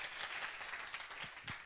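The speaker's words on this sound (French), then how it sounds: "Vous pouvez l'applaudir." Students clap for a classmate in a classroom, a soft, steady patter of many hands lasting under two seconds, fairly faint with no talk over it.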